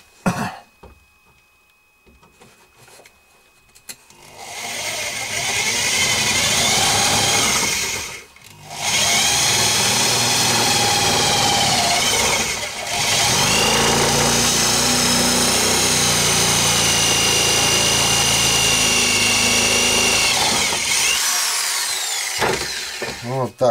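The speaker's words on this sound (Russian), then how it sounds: "Наверное, вот здесь я и просверлю чуть подальше." A power drill bores a hole through a thin handmade wooden spatula. After a quiet start comes a loud, sustained whine, with two short dips in the middle, before it winds down near the end.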